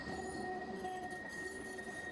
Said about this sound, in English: A straight run through for this tram